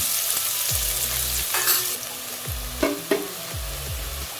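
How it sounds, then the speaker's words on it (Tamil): Onions sautéing in a pan for vegetable biryani, a constant close sizzle punctuated by three or four rhythmic scraping sweeps of a spoon across the pan, with a couple of sharper clacks, no voices. "வெங்காயம் வதக்கிட்டோம்."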